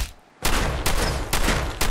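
Gunshots in Fallout 4, a rapid string of four loud, close blasts spaced evenly after a short quiet start.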